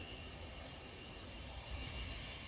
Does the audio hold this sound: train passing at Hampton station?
yes